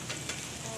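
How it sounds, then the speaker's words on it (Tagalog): Mantis shrimp frying in a pan, a soft, continuous sizzle and crackle heard close but quietly, with no voices. "Ayan po, nakasalang na po ang pritong mamarang at yung sinabawan."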